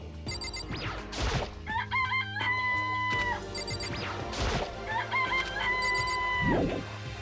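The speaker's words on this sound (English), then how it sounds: "It's a chicken." A chicken clucks and crows repeatedly in the Danganronpa video game, loud close calls mixed with synthetic electronic game tones and occasional crashing hits.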